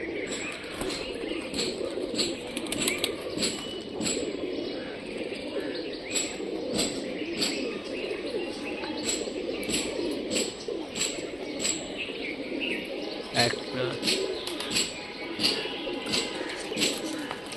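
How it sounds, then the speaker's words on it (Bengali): Rajshahi Giribaj pigeons outdoors, with soft cooing and chirps over a steady windy background, scattered sharp flutters of wings and faint voices in the distance. "কবুতরটা দেখি, এটা সবুজ কবুতর।"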